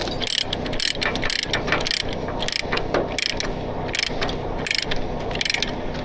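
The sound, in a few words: ratchet load binder being tightened on a hitch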